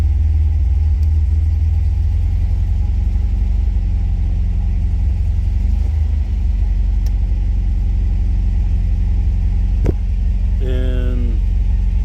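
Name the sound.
1967 MGB-GT engine running at idle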